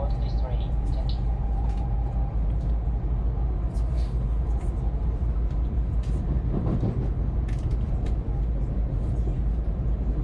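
Steady low rumble of a Shinkansen Nozomi bullet train riding between Osaka and Tokyo, a continuous interior drone heard close and loud throughout, with faint voices murmuring underneath.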